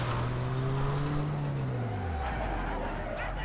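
A strained van engine in the video game APB Reloaded drones steadily, its pitch sliding downward as it winds down, with no talking.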